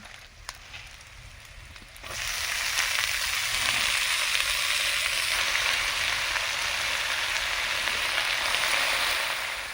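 Chopped spinach hits a pan of hot oil and spices fried with dried chilli powder for a prawn and spinach dish, quiet at first and then a loud, steady, close sizzle that holds to the end.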